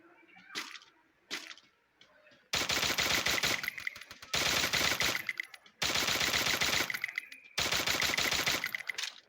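Automatic gunfire from the Free Fire video game comes in four long, loud rattling bursts separated by short gaps, after a few faint isolated sounds at the start.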